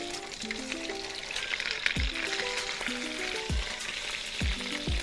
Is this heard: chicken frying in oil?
yes